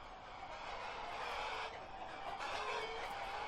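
A dense, continuous chorus of clucking chickens in the video game Ultimate Epic Battle Simulator, a busy flock at moderate volume with no clear pauses.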